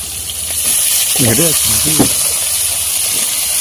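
Fish fries in hot oil in a home kitchen, a steady bright hiss and sizzle running throughout, with a short voice heard briefly in the middle over the frying.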